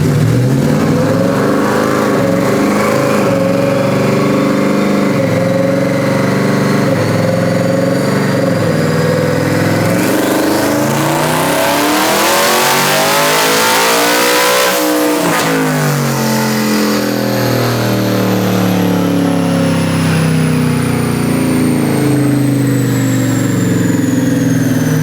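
A twin-turbocharged Shelby truck engine revs hard, climbing to a loud peak and dropping back before settling into a rough, throaty idle, close and without talk.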